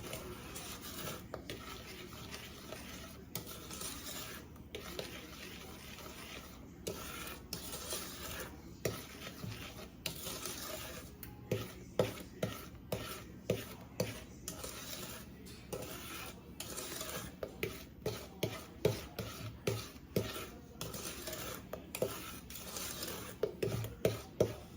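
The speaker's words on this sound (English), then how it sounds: "just keep stirring" A spoon stirs a sweet pecan praline mixture in a pan, scraping and clinking against the metal in a quick, irregular rhythm that grows busier and sharper, close and fairly quiet.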